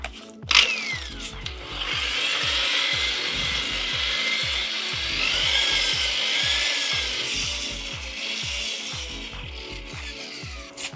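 A mixer paddle blends a decorative floor and wall coating, giving a steady, loud grinding churn with rapid rhythmic rattling that runs continuously from start to finish, with no talk over it.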